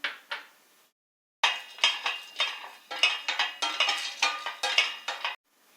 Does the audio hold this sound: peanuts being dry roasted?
yes